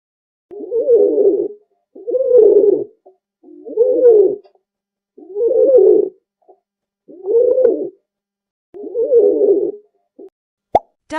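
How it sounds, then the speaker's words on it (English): A pigeon coos six times in a steady, evenly spaced series of low, throaty rolling phrases, each about a second long, close and clear with no other sounds between them. "Pigeon."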